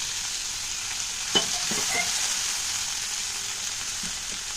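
Egg omelette mixture sizzles steadily in a wok, a continuous close frying hiss broken by a few soft stirring scrapes.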